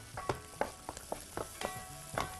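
Onions frying and slowly wilting in a pan for a spicy liver dish, a soft steady sizzle broken by roughly eight short scraping stir strokes at an uneven pace, close by and without talk.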